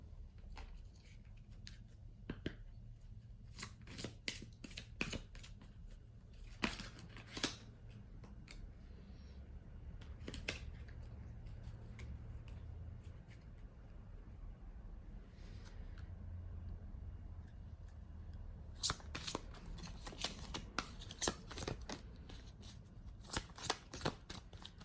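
Tarot cards are shuffled by hand in repeated bursts of crisp riffling and soft slides, close and quiet, with pauses between rounds and no talking.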